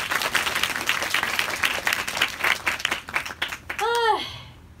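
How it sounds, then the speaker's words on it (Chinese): An indoor audience claps loudly and steadily for a vocal coach at a small concert or album event, dense applause with scattered cheers, ending in a rising whistle-like sweep. "所以我们给她一个掌声。"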